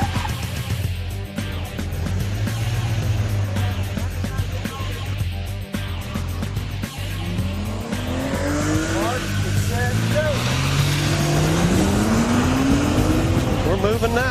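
BMW race cars circling a track at a homecoming event, engines roaring and rising in pitch as they accelerate, with tire squeal and a loud, continuous close-up drone; voices are faint underneath.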